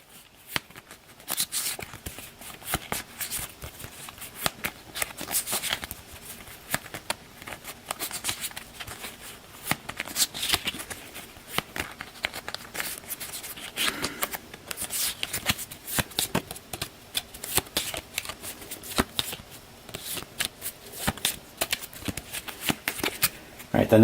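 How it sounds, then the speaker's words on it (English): Playing cards for the Undaunted 2200 board game being shuffled at a tabletop, a steady run of crisp riffling and flapping bursts lasting throughout, close and fairly loud. "So we'll get these cards out to give them a shuffle."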